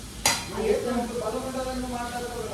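Chopped onion, tomato and green chilies sizzle in a hot pan for lemon rice, with a sharp clatter at the start followed by steady frying under a soft voice in the background.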